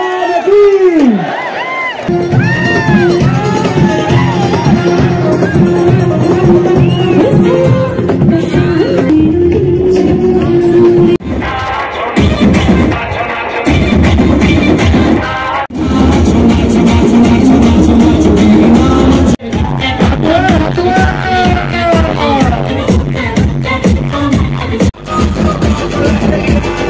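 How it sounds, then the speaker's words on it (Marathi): A large crowd at a public gathering cheers, whoops and shouts loudly and continuously for nearly half a minute, with rhythmic chanting voices rising over the noise and a few brief dips. "दोन्ही ह्या डोक्यावर घेऊन एकदा जोरदार टाळ्या होऊन जाऊ द्या"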